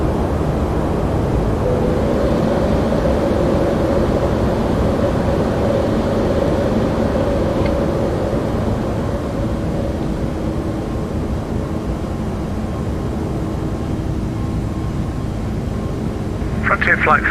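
A Toliss A321 jet takes off and climbs in the X-Plane 12 flight simulator, its steady, loud engine roar filling the whole stretch as people talk over it.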